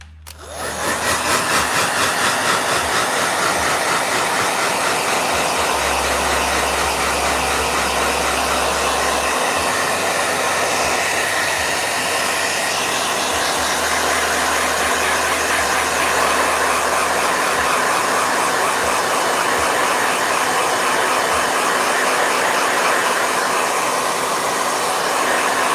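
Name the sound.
blow dryer drying watercolor paint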